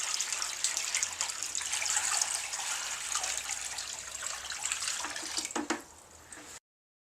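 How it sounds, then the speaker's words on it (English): Water pours steadily from a bucket into the tank of a Chicago Electric bridge tile saw, model 98265, a close, continuous splashing rush that fades out just before stopping. "We have to make sure we get water in the tank here. So we got a bucket of water."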